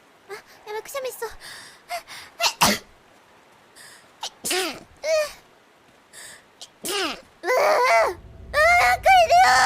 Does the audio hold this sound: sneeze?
yes